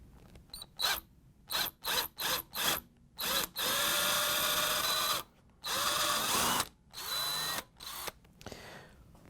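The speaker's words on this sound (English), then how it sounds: "We're going to use a 1/8-inch drill bit to drill the hole." A power drill fitted with a 1/8-inch bit bores a hole in a part of a GE ice dispenser motor assembly: several short bursts, then longer sustained whirring runs, close and clear with no talking.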